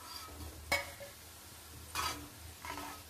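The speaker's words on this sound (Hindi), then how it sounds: "और बाकी बचे हुए भी हम तेल में डाल देते हैं" Leftover Diwali khil snacks are fried in oil with a faint sizzle, punctuated by a few soft clinks and stirring scrapes of a utensil against the pan at intervals.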